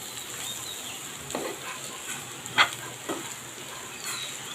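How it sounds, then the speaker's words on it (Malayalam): Potatoes frying in a pan with turmeric are stirred, giving a soft steady sizzle under a few scattered scrapes and one sharper clink of the utensil, close by and without talking. "ഇത് നല്ലതായിട്ടൊന്ന് ഇളക്കണം."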